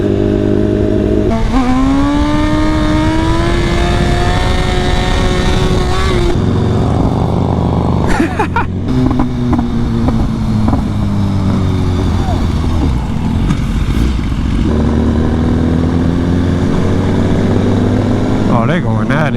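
A Volkswagen car and a motorcycle race past on an Alaska road, their engines revving hard with rising, sweeping whines and a loud roar. Voices talk and shout over the engines.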